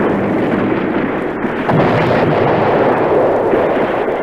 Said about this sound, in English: Bangalore torpedo, I'd say, blowing a hole through the barbed wire.